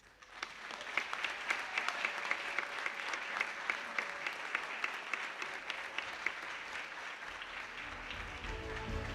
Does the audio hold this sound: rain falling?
no